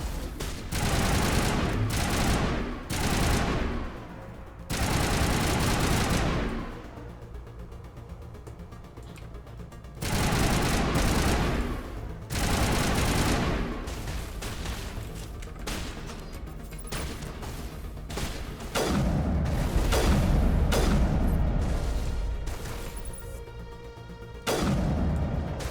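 Gunfire in the video game Mass Effect: loud, heavy bursts of automatic shooting with short pauses, dense fusillades and crashing impacts.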